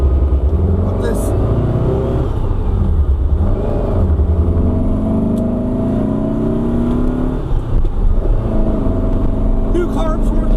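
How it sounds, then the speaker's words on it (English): A 1973 VW Super Beetle engine fitted with new 40 IDF carburetors runs close by, rumbling steadily and pulling through a couple of rising revs, with voices talking over it. "New carbs working good."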